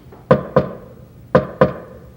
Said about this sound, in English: Someone knocked at the door.